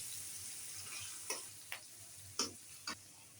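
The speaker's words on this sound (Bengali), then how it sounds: "এই যে চিংড়ি মাছটা একটু তেলের মধ্যে আমি ভেজে নিই।" Shrimp frying in oil in a home Bengali kitchen, a soft steady sizzle with a few sharp spatters or stirring clicks scattered over the low hum.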